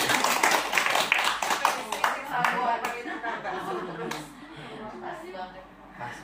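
An audience at a live comedy show claps in a quick run of sharp claps that thins out over a few seconds, with a speaker talking and some chuckling mixed in.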